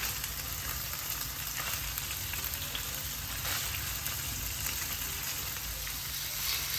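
Small paneer pieces fry in a pan, giving a soft, steady sizzle that continues evenly throughout without a break.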